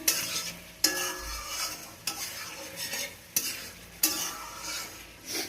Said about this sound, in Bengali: কষানোটা ঠিক আর একটু কষে নেবো